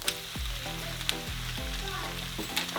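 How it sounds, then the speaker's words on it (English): Shrimp and onion fry in a pan with a close, steady sizzle. Low tonal hums sound underneath. "after a couple minutes we're going to throw in our shrimp"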